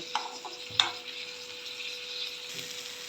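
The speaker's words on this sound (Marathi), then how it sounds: "आपले टोमॅटो शिजायला लागलेले आहेत, अजून 1 मिनिट मी परतवून घेणार आहे।" Chopped tomatoes sauté in a hot pan for a red lentil dosa chutney, giving a soft, steady sizzle with a couple of brief utensil clinks near the start.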